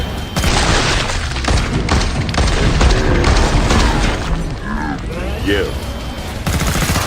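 Gunfire in the video game Killing Floor 2, a dense, continuous volley of shots and booms with crashing impacts, loud throughout, while a voice briefly speaks over it.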